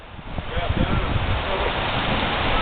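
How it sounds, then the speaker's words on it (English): Rain sweeping in ahead of a storm in Greenwood, Arkansas, heard as a steady broadband hiss with gusty wind buffeting the microphone, continuous and fairly loud throughout. "The rain."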